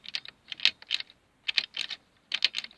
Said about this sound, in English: There's a little clicky button for the mirrors